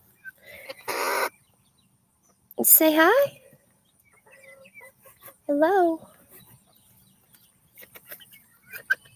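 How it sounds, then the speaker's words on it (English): Small bantam chickens, a rooster and a hen, give a few short clucking calls near the microphone, with quiet handling noises and a person speaking briefly between them. "And they're bantams, but I think they're like the small bantams"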